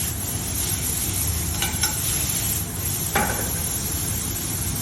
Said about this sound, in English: Let that sear for a minute.